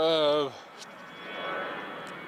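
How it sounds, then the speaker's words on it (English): An aeroplane passes overhead in a garden, a broad distant rumble that swells gently and fades, following a brief burst of voice at the start. "sorry about the aeroplane noise."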